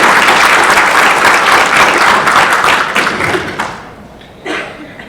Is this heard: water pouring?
no